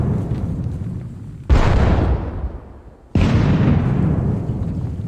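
Cannon fire in the video game Campaign Waterloo: two loud, sudden booms about a second and a half apart, each fading away into a long rumbling tail.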